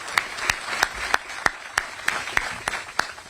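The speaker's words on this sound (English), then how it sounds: "Everybody, one more round of applause for UNLV President Keith Whitfield." Sparse individual hand claps, about ten sharp slaps in a steady uneven rhythm, fairly faint and distant, closing out a round of applause for the UNLV president at a press event introducing the new football coach.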